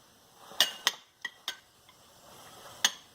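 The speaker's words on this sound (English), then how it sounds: "I'm going to add 1 spoon of butter or margarine, whatever you want to use." A metal spoon clinks against a cooking pan while butter or margarine is added, giving five or six sharp, close taps spaced irregularly over a quiet background.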